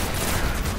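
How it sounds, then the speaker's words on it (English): A Thesan FR4 fusion rifle fires in Destiny: The Taken King, a dense, loud burst of energy-weapon noise filling the whole brief moment. "this fusion rifle right here is a beast."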